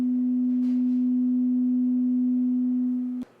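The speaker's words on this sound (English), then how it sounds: "you hear just a single tone." A single steady pure tone from two interfering waves holds at constant pitch and loudness for about three seconds, then cuts off abruptly.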